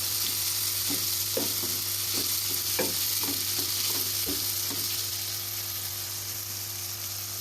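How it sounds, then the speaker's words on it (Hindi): Ground masala being mixed in a hot pan for stuffed bhindi (okra) gives a steady sizzle with a run of scraping spoon strokes in the first five seconds, over a low electrical hum. No voices are heard. "वही हम इसमें मसाला डालेंगे और कोई मसाला हम इसमें नहीं डालेंगे। अच्छी तरह से मिक्स करेंगे"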